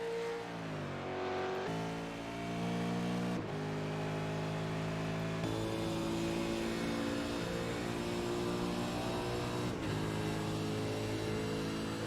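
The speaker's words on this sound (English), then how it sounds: "Troy Banks, another supercar driver" Race cars in a supercar racing video game, engines droning and revving continuously with gear-change drops in pitch, a dense steady roar throughout.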